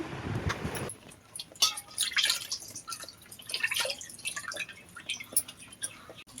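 Water splashing and dripping as palm fruit is rinsed clean by hand, a burst of running water followed by scattered close drips and trickles, fairly quiet.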